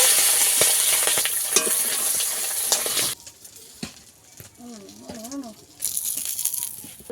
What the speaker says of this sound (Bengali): ডিম দুটোকেও ভেজে নেব